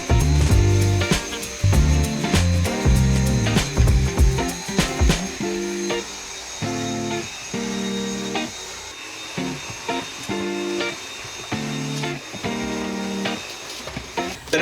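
A Dyson V7 handheld vacuum cleaning a tiny house, its loud whirring motor switching on and off in repeated bursts with clunks and bumps between them, no talking.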